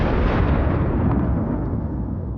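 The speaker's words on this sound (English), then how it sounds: "The attack begins with a targeted strike on one of the positions." A targeted strike explodes on a Russian position in the Kursk region, a loud, sustained rumbling roar that fills the scene and slowly fades, with no voices.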